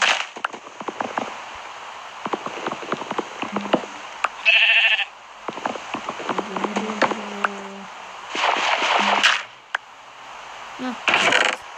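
Sheep bleat repeatedly in the Minecraft video game, several short clear bleats spaced across the scene between clicks and faint game sounds, fairly close and loud.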